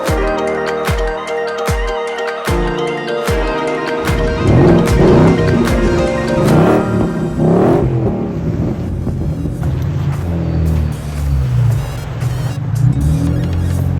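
A stock Toyota Supra MK4 engine running on its first drive, a loud steady engine note with revving swells throughout, no talking.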